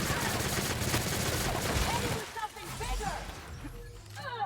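A gun in The Outer Worlds video game fires a rapid, loud burst of shots for about two seconds, then scattered impacts and debris follow under a voice.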